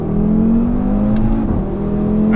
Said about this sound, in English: the good thing about this RS3 is it's so loud even with the windows up